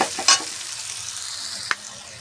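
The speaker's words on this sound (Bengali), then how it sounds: "এবার মশলাগুলো একসঙ্গে সবজির সঙ্গে মিশিয়ে নেব।" Spices and vegetables being stirred in a frying pan while cooking a cabbage curry, with a soft steady sizzle, a couple of sharp scraping clinks of the spoon against the pan near the start and another near the end.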